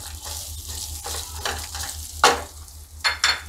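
Halved boiled potatoes are gently stirred through spices in a pan, giving a soft sizzle under a few scraping stirs and clinks of the spoon against the pan.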